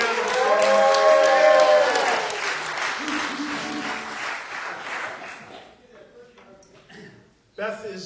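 An audience at a coffee house music night claps warmly for a performer, a full burst of applause under a speaking voice that tapers off within a few seconds, followed by quieter talk.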